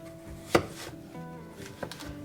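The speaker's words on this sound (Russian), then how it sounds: "Кабачок нарезаю произвольными кусочками." A knife chops through a large 500-gram zucchini into rough chunks, one sharp near cut standing out, then another lighter chop, with soft kitchen clatter between.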